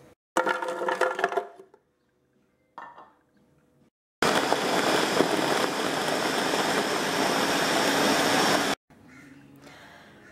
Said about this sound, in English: So I'm gonna throw all of this in the blender and make a big smoothie.